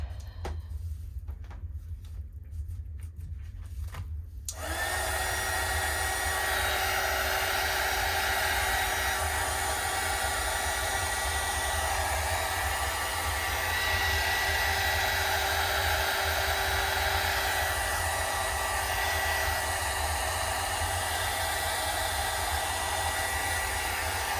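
A hair dryer switches on after a few seconds of quiet and then blows in a loud, continuous steady roar to dry a freshly pulled gel plate print.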